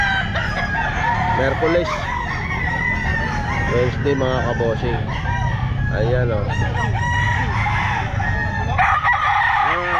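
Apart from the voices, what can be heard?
Palawan Gold bullstag rooster crowing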